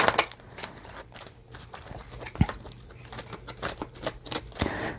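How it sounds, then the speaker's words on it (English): Tarot cards being shuffled by hand: a rapid, uneven run of crisp riffles and soft flicks with a few sharper slaps, close up and alone. "I don't know why I always have so much trouble shuffling this deck"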